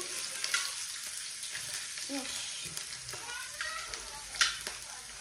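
Potatoes frying in a pan, a steady soft sizzle with occasional spoon stirs and scrapes, close and moderately quiet, with no talking.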